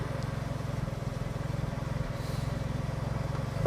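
A Smart Roadster sports car engine idles nearby with a steady low throbbing pulse, even and unchanging, alone without voices.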